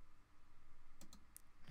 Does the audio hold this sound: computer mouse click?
yes